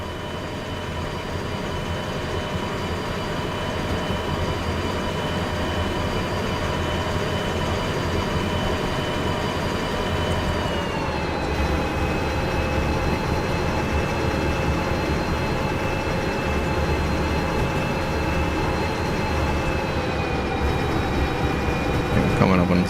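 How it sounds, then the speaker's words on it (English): A locomotive runs steadily in the train-driving game Derail Valley, with a constant engine drone and rail rumble carrying sustained tonal whines that dip slightly in pitch partway through, continuous and fairly loud throughout. "Let's just get the locomotive past here and then accelerate."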